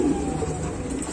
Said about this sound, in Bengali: দর্শক দেখেন কত অ্যাক্টিভ কবুতর